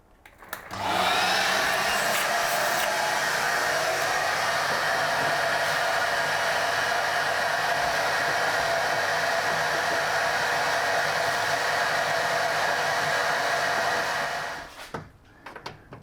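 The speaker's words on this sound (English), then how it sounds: "Let's get the vacuum in there." A vacuum cleaner switches on, runs with a steady high-pitched whine and roar for about fourteen seconds, then powers down; no talking.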